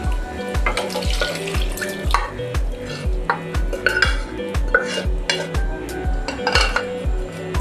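Boiled beef is stirred into sizzling masala in a pan, with a steady rhythm of repeated spoon scrapes and clanks over a constant frying hiss, close and loud, with no voices.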